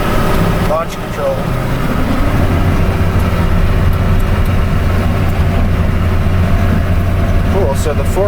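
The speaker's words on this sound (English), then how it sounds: "I like how it revs up first and then goes when you engage it." BR 400 snow groomer engine on launch control at night on a ski slope, a loud, steady low diesel roar held close with faint voices in the background.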